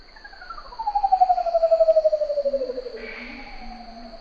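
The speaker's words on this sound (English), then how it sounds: "to the otherworldly songs of the curl-crested Manicode" Song of a curl-crested manucode: a long, slowly descending whistled note with a pulsing tremolo, followed by a softer low tone, over a steady high insect drone.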